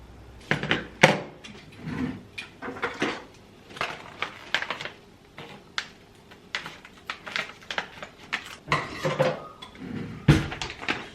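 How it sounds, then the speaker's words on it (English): Whisk clattering against a pan as vegan butter and brown sugar are stirred over medium heat, with a quick, irregular run of clinks and scrapes, close and moderately loud, and no talking. "Heat on medium and begin to whisk."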